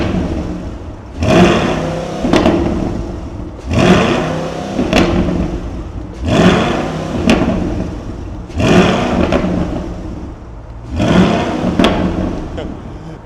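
A Corvette C8 E-Ray's 6.2-liter V8 revved five times in even bursts, each rising and dropping back. Revs are held near a 4,000 rpm limit. The engine sounds close and fairly loud.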